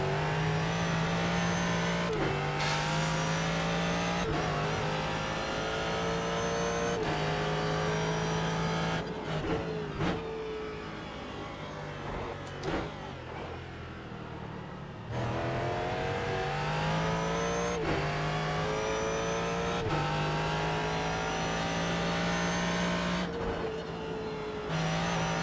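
Ford GT3 race car engine at Barber Motorsports Park in iRacing, a loud continuous high-revving roar climbing and dropping through gear changes, with brief lifts and downshifts through corners.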